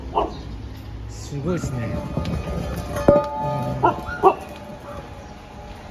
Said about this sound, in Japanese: 犬がちょっと足元で吠えてますけど